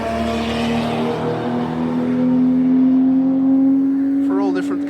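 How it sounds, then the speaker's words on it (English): Endurance 24-hour style tin-top race cars running at the Nurburgring on a foggy test day; a steady sustained engine drone holds throughout, swelling slightly as a car nears, with a brief higher whine near the end. "For all different kinds of race cars, look like the endurance 24-hour style tin top category."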